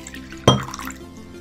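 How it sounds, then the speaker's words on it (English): Water poured into a bowl gives one quick splash, followed by a short trickling decay, close up and otherwise quiet. "So let's put some water in this bowl."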